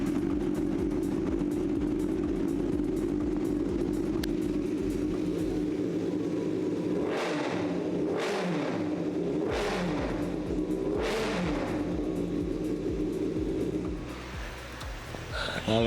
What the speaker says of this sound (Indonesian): Suara khas 4 silinder seperti ini.